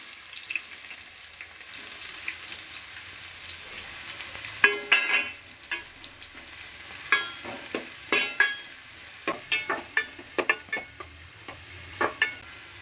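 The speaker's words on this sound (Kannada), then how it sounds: "ಈರುಳ್ಳಿ ಸ್ವಲ್ಪ ಕಲರ್ ಚೇಂಜ್ ಆಗಬೇಕು, ಹಸಿ ಸ್ಮೆಲ್ ಹೋಗೋವರೆಗೂ ಸ್ವಲ್ಪ ಫ್ರೈ ಮಾಡ್ಕೊಳ್ಳಿ." Onions frying in a pan for vegetable fried rice give a soft steady sizzle, broken by repeated sharp scrapes and clinks of stirring, close by, with no talking.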